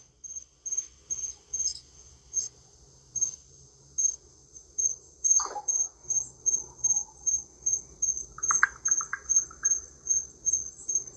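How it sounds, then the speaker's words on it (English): Crickets chirp outdoors beside a patio in a steady run of regular pulses, clear and fairly close, with a brief faint rustle and a short bird-like note partway through. "Oh yeah, I hear the crickets out there."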